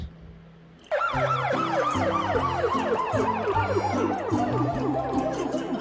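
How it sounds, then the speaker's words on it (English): A police car siren wails loudly and up close in a steady, repeating rise-and-fall pattern that starts abruptly about a second in and runs without a break, with no voices over it. "P for police car."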